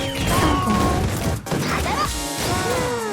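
Explosive attack from the character Hibiki in the Blue Archive game, a sharp crash with layered impact effects and short game voice sounds, loud and busy.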